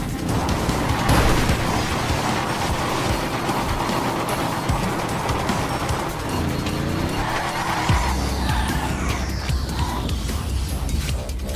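Cars in a GTA land race with muscle cars skid and ram each other, engines roaring continuously with repeated tire squeals and screeching slides, loud and close throughout.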